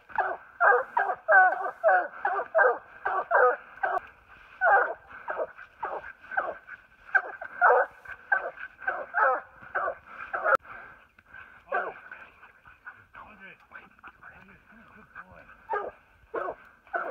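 Hunting dogs bark and yip in rapid, overlapping bursts at a mountain lion treed in the woods, loud and close, with short pauses between volleys.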